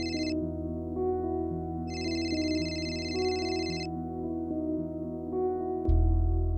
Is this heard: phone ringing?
yes